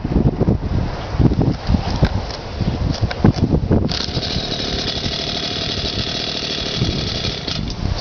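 A small engine with an interrupter kill wire and its own fuel tank fires up after a few rough, uneven bursts, then settles into a steady, loud running drone up close, with wind buffeting the microphone.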